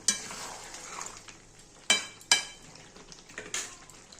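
Chicken and potatoes stir-fried for chicken kosha sizzle quietly in a pan, broken by a few sharp scrapes and knocks of a spoon against the pot, close and without talk.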